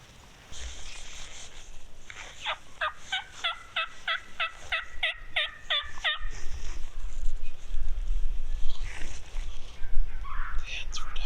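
Wild turkey hens calling during a spring hunt in Wisconsin woods, a rapid series of about a dozen evenly spaced yelps, fairly close, followed by softer scattered clucks over rustling and low background rumble.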